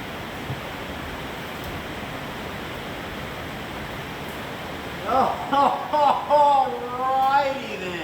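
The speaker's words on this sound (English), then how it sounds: "it is flat, pouring rain out there" Heavy rain pours steadily outside a garage during a teardown of a Dodge Aspen T-Top R/T Super Pak, a dense even hiss running throughout, with a voice talking over it in the last few seconds.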